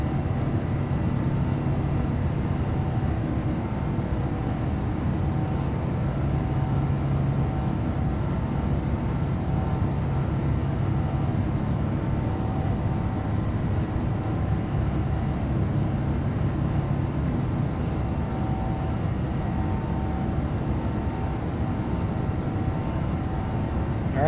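Steady jet engine drone from an airliner in the X-Plane 12 flight simulator, a continuous even hum with low rumble and faint tonal whine, unchanging in level throughout and heard without any talking.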